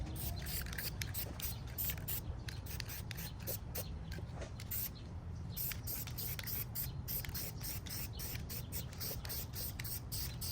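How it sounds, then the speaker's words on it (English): VHT Wrinkle Plus aerosol paint hisses from a can onto Harley Sportster rocker covers in heavy coats, a faint, steady spray broken by short gaps between passes. "Just go ahead and apply the first coat. You want to apply heavy coats."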